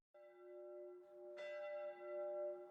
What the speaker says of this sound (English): Chapel bells toll in the winter air.